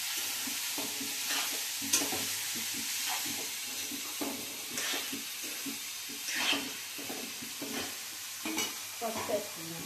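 Ridge gourd slices stirred and frying in hot oil tempering, a steady close sizzle with repeated scraping stir strokes throughout, no talking.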